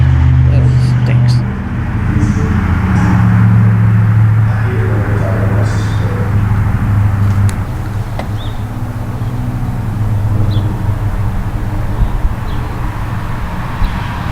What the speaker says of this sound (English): Another stupid Chevy.